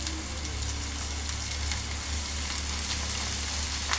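Koyagura vegetables frying in a kadai, a steady dense sizzle with scattered pops and crackles, close and continuous throughout.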